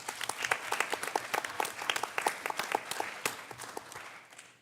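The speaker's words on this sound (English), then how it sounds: "Another round of applause for Aaliyah" Applause fills a board of education meeting room as the audience claps for a student, dense irregular handclaps at moderate volume tapering off near the close.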